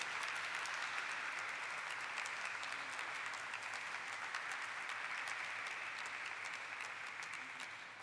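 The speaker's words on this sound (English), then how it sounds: "Let's have a round of applause" Sustained audience applause fills a listing ceremony for Eureka Forbes Limited, a dense, steady clapping from a large crowd that stays loud throughout and eases only slightly at the very end.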